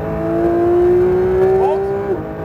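A car accelerating hard at full throttle on a track, the engine revving in one long rising pull that holds loud and close before a quick shift or lift near the end.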